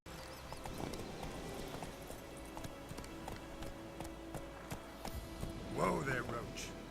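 Hooves of Geralt's horse Roach clip-clopping steadily in The Witcher 3: Wild Hunt, a continuous near trot with voices and game ambience mixed in.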